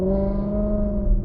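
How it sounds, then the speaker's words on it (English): A Maserati V8 car engine pulls away with a steady, loud, throaty drone and smooth rising harmonics that hold continuously, close by and with no talking. "I just love the sound of those Maserati V8s"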